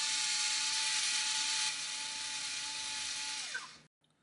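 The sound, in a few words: drill drilling into guitar body for pickup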